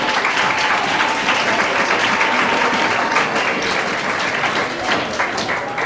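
A debate audience at a law school constitutional law event applauds both teams, with dense, steady clapping filling the room for several seconds, loud and sustained without letting up.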